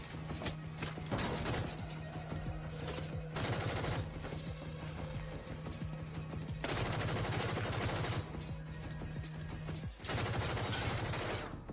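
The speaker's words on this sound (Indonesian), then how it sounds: "Tuan Jin melihat peluru habis." Sustained bursts of automatic gunfire in a film shootout, loud rapid rattling volleys that stop and restart several times, with brief quieter gaps between them.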